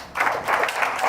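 A conference audience at a university finance research competition final in Uganda applauds in a brief, steady burst of clapping, moderately loud.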